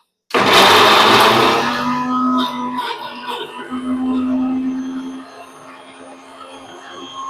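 A mixer grinder whirring at high speed as it grinds a spicy masala paste for a fish curry, starting abruptly and loud, then settling into a steady humming whine that fades near the end.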